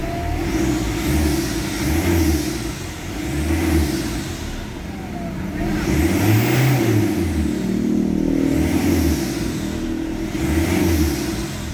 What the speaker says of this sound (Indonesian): Kita main RPM bawah.